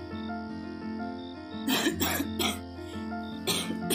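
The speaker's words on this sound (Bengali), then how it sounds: "কাশির ধমক আসছে, এক বুক কেশে নেয় মেয়েটা।" A woman gives several harsh, chesty coughs in quick bursts over a steady background music drone.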